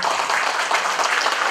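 An audience at an installation ceremony applauds in a brief, dense burst of clapping that holds steady throughout.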